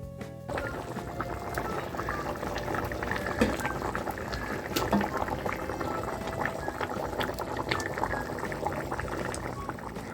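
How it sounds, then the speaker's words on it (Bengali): Mutton curry with added hot water, a Kasuri mutton cooked over a wood-fired clay stove, bubbling at a full boil, with a steady dense churn of liquid and small pops running throughout without any talk. "গরম জল অ্যাড করে দেব। যে যেরকম ঝোল পছন্দ করো সেই অনুযায়ী জল দেবে আর দিয়ে মাংসটাকে ফুল স্টিমে আরও 10 মিনিট মতো ফুটিয়ে নেবে।"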